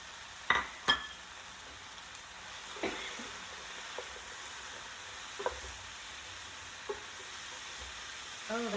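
Broccoli and cauliflower fry in a pan for a low-carb chicken vindaloo, a steady soft sizzle with a few sharp clatters of stirring near the start and scattered scrapes throughout.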